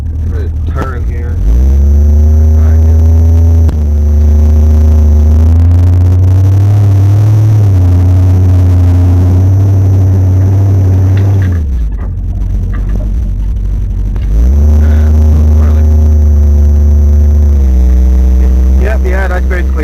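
Buick Regal fitted with a Buick 350 V8 and a shift kit, driving and turning: a loud, close, steady engine drone that climbs through gear shifts, drops away briefly, then builds again, with engine noise filling the whole stretch.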